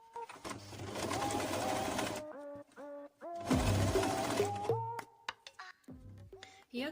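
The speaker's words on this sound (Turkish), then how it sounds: "Dikiş payı için kıvrılan ütü çizgisinden biyemi dikeceğim." A sewing machine stitches bias binding along a pressed fold on a fabric edge. Two long bursts of steady running stitches are separated by pauses and short hand-adjustment clicks, all close and fairly loud.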